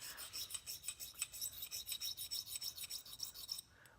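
Rapid back-and-forth rasping strokes of buffing a harp trigger, bright rhythmic scrubbing pulses repeating about every quarter second, close and fairly quiet, with no talk.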